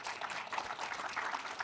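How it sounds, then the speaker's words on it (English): Audience applause for the Royal team at SXSW, a steady wash of many hands clapping, moderately loud and continuous with no talk over it. "Give the Royal team a quick round of applause right now"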